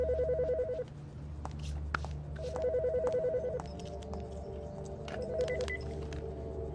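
A telephone rings in short repeated bursts of electronic trilling tone, separated by pauses, over a low steady background hum, fairly quiet and close.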